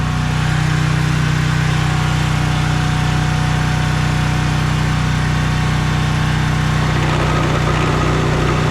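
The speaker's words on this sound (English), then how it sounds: "I got the generator going. It's fired up." Generator powering a mill, running steadily with a loud, constant engine hum and drone close by and no pauses throughout.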